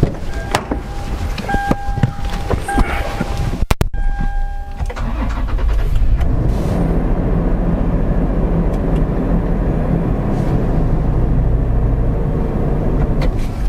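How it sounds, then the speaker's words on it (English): A Toyota 4Runner's 4-liter V6 is jump-started from a jump pack: starter clicks and a brief cranking burst, then the engine catches and settles into a steady, close idle. "jump pack actually started the V6 engine, which is a 4-liter engine, on the Toyota 4Runner, no problem whatsoever"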